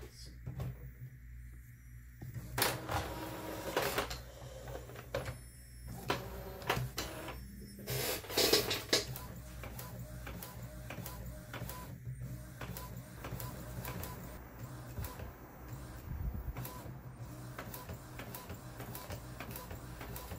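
Epson WF2850 inkjet printer running a sublimation print, with mechanical whirring, print-head carriage shuttling and paper-feed clunks in irregular bursts, close by, with some speech underneath.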